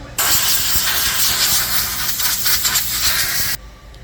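A spray can hisses in one continuous, loud, close burst for about three seconds while coating metal car parts with rust-protective paint, then cuts off abruptly.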